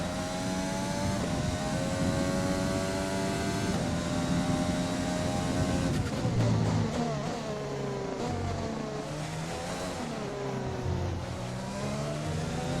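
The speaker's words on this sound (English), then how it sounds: "the engine does not sound happy being in rich mode all that time" An F1 2020 race car engine in rich mode, held at a strained, sustained drone with shifting pitch as revs rise and fall during a practice run at the Mexican Grand Prix, loud and continuous throughout.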